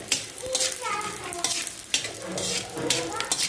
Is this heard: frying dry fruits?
yes